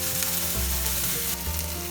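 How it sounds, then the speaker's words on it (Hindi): Onion, green chili and ginger fry in oil in a pan for a radish paratha filling, giving a close, continuous sizzle with faint stirring. "प्याज हाफ फ्राई हो गया, अभी अदरक डाल देते हैं। अभी 2-3 मिनट हमें फ्राई करना है।"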